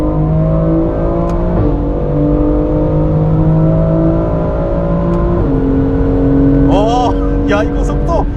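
A BMW X3 M Competition in Sport Plus mode accelerates hard, its engine note climbing steadily through gear changes, loud and close from inside the cabin.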